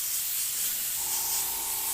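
An airbrush sprays paint onto a skull in a steady, close hiss that continues without a break, with a faint tone entering partway through.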